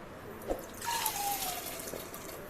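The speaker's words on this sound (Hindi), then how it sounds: "और इसी में हम ऐड करेंगे पानी।" Water poured into a pressure cooker holding dal, a short splashing pour that settles into a trickling flow, close by and fairly quiet, with no voices.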